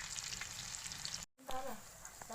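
Fish coated in masala frying in hot oil, a steady, close, hissing sizzle that cuts out for a moment and then resumes with faint bubbling crackle.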